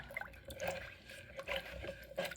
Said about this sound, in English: Sugar feeds the yeast. And then we're just going to do a stir.